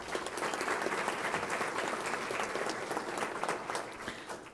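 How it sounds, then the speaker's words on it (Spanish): Sustained applause from an audience at a public accountability hearing, dense and steady clapping filling the room for several seconds at an even level, with no voices standing out. "Un voto de aplauso, por favor."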